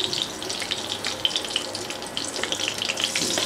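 Whole spices, two black cardamoms, two cinnamon pieces and three or four green cardamoms, sizzling in hot ghee for morog polao, a steady close crackling hiss with small pops throughout, no talk.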